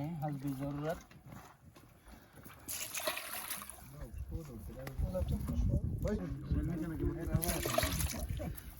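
Glasses of water are poured into a pot holding 3 kg of beef for namkeen gosht, giving faint sloshing and splashing bursts beneath someone talking.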